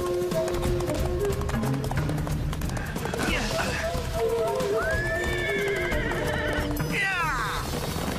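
Cartoon herd of wild horses galloping with rapid clip-clop hoofbeats and repeated loud neighing and whinnying, layered with music and effects; characters speak over parts of it.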